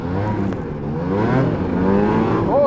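Small, poorly running car engine revving while driving, loud and close, its pitch climbing and sagging through several uneven rises before surging again at the end, with no talking over it.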